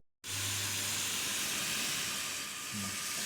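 A propane stove burns with a loud, steady hiss, starting abruptly and holding an even, close roar, while a faint low hum comes and goes beneath it.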